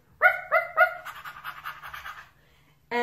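A dog gives three sharp barks, then pants rapidly and audibly for a second or so, followed by one more bark at the end.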